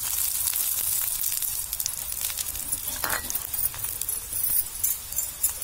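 Makuni roti frying in mustard oil on a hot pan, a continuous hissing sizzle with brief crackles and a scrape of a spatula, close and fairly loud.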